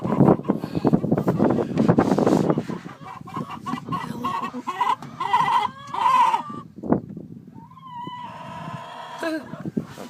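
Chickens in a Salatin-style pen with nesting boxes cluck and squawk loudly up close, in busy bursts, while people talk nearby.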